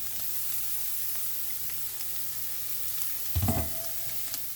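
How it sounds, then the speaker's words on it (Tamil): Masala sautéing in a pan gives a steady, fairly soft sizzle, broken by one brief louder clatter of stirring near the end, with no talk. "இந்த மசாலா சாதுவாக வதங்கினா காணும்"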